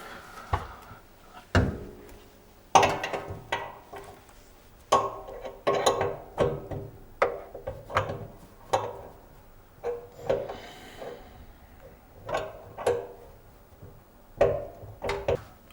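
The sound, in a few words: removing the pipe from an under-sink RO water filter faucet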